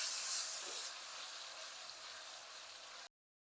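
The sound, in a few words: garlic ginger paste frying in a pan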